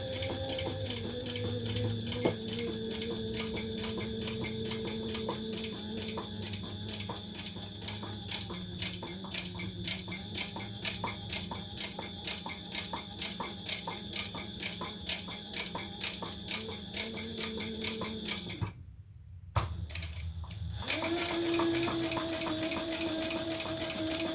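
A sewing machine top stitching a handbag runs in a steady, rapid mechanical chatter at close range, continuous for about twenty seconds, with a brief pause near the end before it starts up again.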